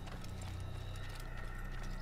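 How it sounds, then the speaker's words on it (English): Horse hooves in Assassin's Creed, a quiet, steady clip-clop of hoofbeats over a low continuous hum. "there's a horse right there"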